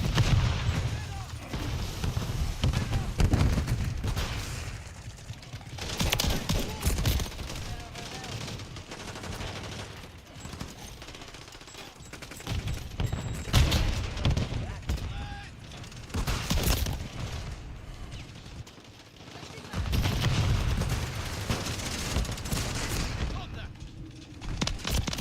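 Bursts of rapid gunfire and booming shots in Call of Duty Modern Warfare III, loud and repeated over the full stretch, with a player's voice heard at times.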